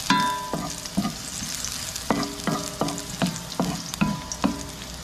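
Ginger and garlic sauté in a hot pan with a steady sizzle, broken by about eight sharp scrapes of a utensil stirring against the metal at a loose, irregular rhythm, close and moderately loud.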